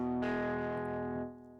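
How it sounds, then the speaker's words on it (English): A single chord rings out on an electric guitar played through an amp, with the volume knob set halfway so the tone is half distorted and the bass breaks up first, sustaining and then fading away. "kind of half distorted tones, where the bass starts to break up before the treble"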